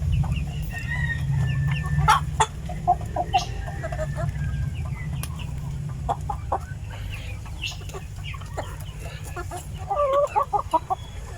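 Rhode Island Red and mixed heritage chickens in a free-range flock, clucking and calling close by in scattered bursts over a steady low background hum, with sharper clustered clucks near the end.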